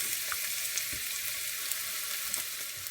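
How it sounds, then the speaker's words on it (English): Onions sauté in a hot pan with a loud, steady sizzle and faint crackles, continuous and close for the whole stretch with no talking. "And I'm gonna let this saute for about 2 minutes."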